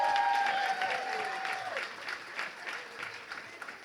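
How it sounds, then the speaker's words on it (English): Applause from a luncheon gala audience for a co-host and dance partner, a dense burst of clapping that stays steady and fairly loud before thinning slightly toward the end. "can you please give her another loud round of applause"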